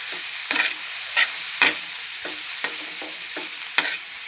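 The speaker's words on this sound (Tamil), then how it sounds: "தேங்காய் பூவை லைட்டாக வதக்கணும்" Grated coconut is sautéed lightly in a pan for a wedding-style poriyal, a soft continuous sizzle broken by about eight rhythmic spatula strokes scraping the pan, close and clear with no talking.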